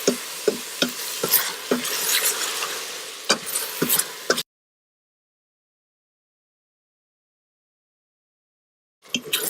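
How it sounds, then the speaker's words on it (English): Tomatoes fry in oil in an Instant Pot for minced lamb keema, with a spoon stirring through them: scraping sizzle and repeated sharp clacks for about four seconds, then silence, then a brief burst of sizzling returns at the end. "Keep stirring it occasionally to avoid burning at the bottom"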